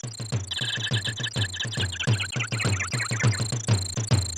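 Chirping jungle critter calls from Donkey Kong Country's DK Island Swing on the SNES, bright rhythmic insect- and bird-like trills repeating in quick, regular pulses alongside a steady low beat, close and loud with no talking.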